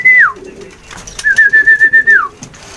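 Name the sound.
pet pigeon (dove) cooing and moving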